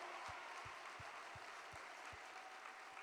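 A church congregation claps together in a slow, steady rhythm of about three claps a second, a sustained roomy wash of applause with no talk over it.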